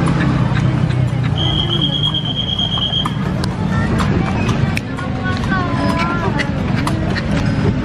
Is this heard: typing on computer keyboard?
no